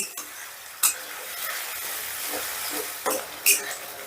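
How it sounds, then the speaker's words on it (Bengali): Ginger, green chili and garlic paste sautéing in a pan with a splash of water, a soft steady sizzle broken by a few sharp stirring clinks. "এবারে এই মশলাটাকেও আমি মিনিট খানিকের মতন একটু কষে নেব"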